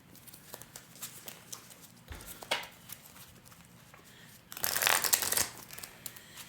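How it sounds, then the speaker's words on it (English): A deck of Disney Lorcana trading cards is shuffled, with soft, scattered riffles and taps, then one loud, dense burst of card shuffling before the noise fades back to light handling. "I'm going to shuffle much better also"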